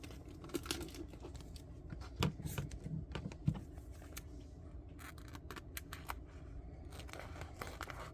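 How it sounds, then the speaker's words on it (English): Scissors roughly snip tape off handmade fairy wings for a Renaissance faire Barbie, giving quiet, close cuts and crinkles scattered irregularly over a faint background. "I'm just going to roughly chop this tape off so again I'm not dealing with a bunch of sticky"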